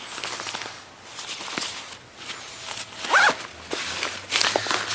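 A zipper on a Deuter ACT Trail 32 backpack is pulled in several quick, rasping strokes at close range, mixed with fabric rustling and handling noise.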